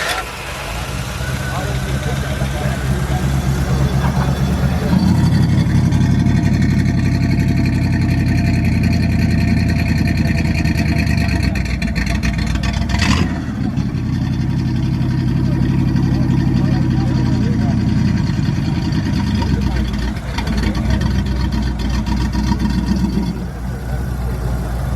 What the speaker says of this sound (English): Cutout system on the exhaust. You can demonstrate that if you want.